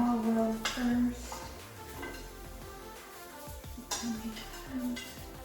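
Food being tossed in olive oil in a dish, giving soft clinking and scraping of a utensil against the dish at close range, with a faint tonal hum in the background.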